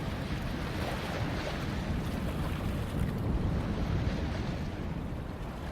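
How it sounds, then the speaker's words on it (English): Water laps and wind sighs over a harbor where wood creaks, blending into a steady, dense wash of surf-like noise that holds an even level throughout with no distinct events. "The lapping water, the creaking wood, and the soft, continuous sigh of the wind passing over the harbor."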